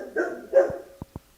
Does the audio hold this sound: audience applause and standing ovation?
no